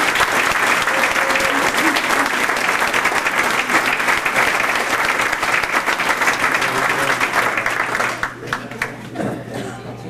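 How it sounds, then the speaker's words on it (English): Audience at a 1995 San Jose kart club banquet claps loudly and steadily for an award winner, with voices mixed in, then the applause thins and fades over the last couple of seconds. "let's give him a rounding applause"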